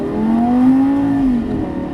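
A Lamborghini Gallardo Superleggera LP 570-4 engine revs hard on a track, its tone climbing steadily as it pulls through a gear and then dropping off at the upshift, loud and close with no talking.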